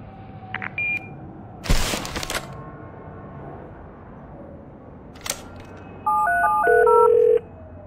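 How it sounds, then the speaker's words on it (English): A series of electronic answering machine tones and a final sustained beep in the video game The Darkness, preceded by a sharp noisy burst and a few short clicks, heard clearly with no talking. "Leave your message after the beep."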